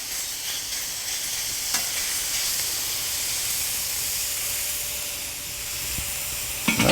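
Onions sizzle steadily on a hot plancha grill over a Slow 'N Sear kettle, a constant bright frying hiss with a few faint clicks of the spatula tossing them.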